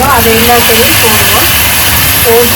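Moringa drumstick pods sauté in hot oil for a drumstick gravy, giving a loud, continuous hiss while a voice talks over it.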